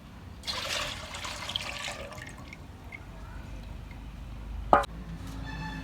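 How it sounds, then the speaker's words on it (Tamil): Water splashes and trickles at close range as goat blood is washed, a brief pour and drain from a bowl with a sharp clatter near the end, over a low steady background. "நல்லா தண்ணியை ஊற்றியாச்சு வடிகட்டியாச்சு"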